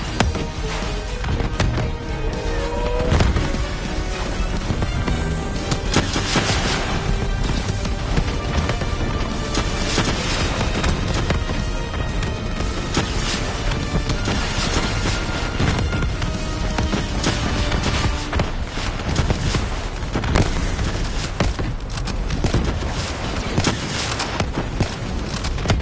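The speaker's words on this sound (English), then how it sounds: "Javelin missiles incoming!" Javelin missile explosions and dense gunfire in Call of Duty Black Ops 3, a continuous loud battle din of rattling shots and booms filling the whole stretch without pause.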